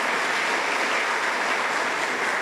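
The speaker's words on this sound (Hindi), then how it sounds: "मैं आप लोगों को जोरदार ताली से उनका मैं स्वागत करना चाहता हूं" A crowd at a speech about unemployment applauds in welcome, a dense, steady wash of clapping that holds at an even level throughout.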